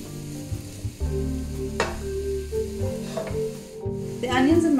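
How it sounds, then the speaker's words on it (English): Onions and mushrooms sautéing in a pan over medium heat give a continuous close sizzle, broken by a few scraping stirs of a utensil. "The onions and mushrooms have been cooking on medium heat for about 5 minutes"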